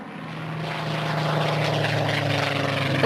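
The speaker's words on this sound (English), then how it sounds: "The skies over Shropshire were filled with the drone of aircraft engines during the war." Wartime propeller aircraft engines drone overhead above Shropshire, a steady throbbing hum with clear pulsing tones that swells in from quieter beginnings and holds loud and continuous.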